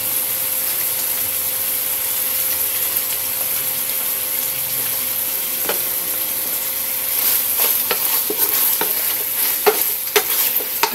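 Chicken liver drops into a pan of chicken in tomato sauce and fries with a steady close sizzle, followed by scattered scraping and stirring clatter toward the end.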